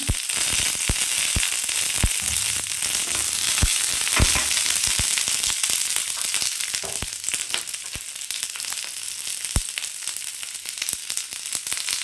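Onions frying in oil for a Tamil fish curry, making a dense, loud, continuous crackle dotted with sharp pops and spits throughout, near and without speech.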